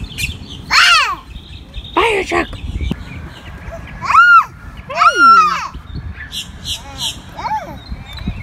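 Bird calls heard outside near a fire truck, several sharp descending chirps and whistled notes repeating at irregular intervals, fairly loud and close, with a few brief voices mixed in.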